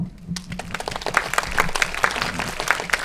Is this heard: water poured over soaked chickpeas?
no